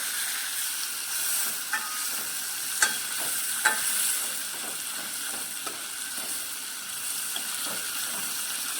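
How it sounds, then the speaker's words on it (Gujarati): Stuffed bitter gourd sautés in a pan with a soft, steady sizzle, broken by a few sharp clinks and scrapes of a spoon stirring. "થોડીક વાર માટે આપણે એને સાતળી લઈશું"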